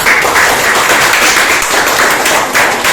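A classroom full of people claps together, a loud, dense and continuous burst of applause sustained evenly from start to finish.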